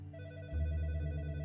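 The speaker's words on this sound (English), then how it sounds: "Just then, the phone on Detective Higginbotham's desk rang." A desk telephone rings with a steady, sustained electronic tone that fills the whole moment, growing fuller and louder about halfway through, with no voices over it.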